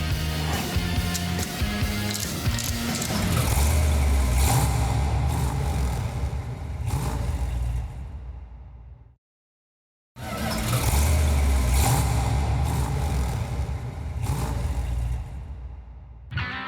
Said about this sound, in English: So we should be able to pull that into gear and take off and drive.